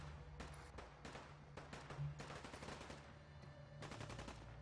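Rapid bursts of gunfire in Fallout 4 crackle repeatedly over a low humming background, some shots in quick automatic strings, others spaced apart.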